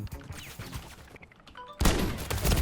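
A close-range shotgun blast in Call of Duty: Modern Warfare bursts in loudly after scattered lighter in-game noises and bleeps, followed by sustained heavy rumble.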